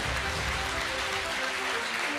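A television studio audience applauds a young debate teacher from Lviv, a steady, dense wash of clapping that stays even and fairly close throughout, with a faint tonal layer beneath.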